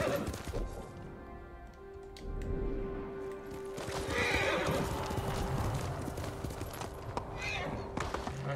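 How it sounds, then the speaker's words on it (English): A horse in the video game Ghost of Tsushima gallops with steady, rhythmic clip-clop hoofbeats and lets out a whinny. A game score hums underneath, and a voice speaks briefly. "Alright, keep going, horsey."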